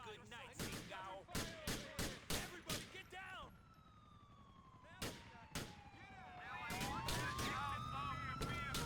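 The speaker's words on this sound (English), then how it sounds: "just gun them down with extra ammo that he has with SMG" Rapid SMG gunfire in a Need for Speed Most Wanted style police-chase video game, several sharp bursts over the first few seconds, then sirens wailing and an engine droning, with a commentator talking over it.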